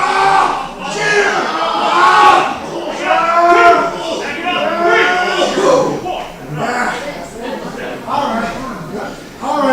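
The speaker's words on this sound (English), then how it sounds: "you hear what this crowd feels like in relation to Ramses" At a professional wrestling event, a crowd cheers and shouts in a loud, sustained roar. Individual yells and drawn-out calls rise and fall throughout, and a commentator's voice runs alongside the noise.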